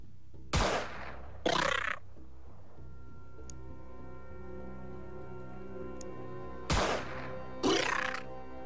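Machine gun fire in the turn-based strategy game Xenonauts comes as four short, loud rattling bursts, two early and two late, separated by a long quiet gap with only a faint background hum.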